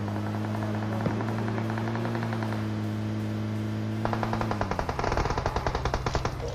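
Rapid automatic gunfire in a PUBG match as two rival squads fight each other, bursts starting partway through over a steady background hum, the shots sounding somewhat distant and repeating in quick succession.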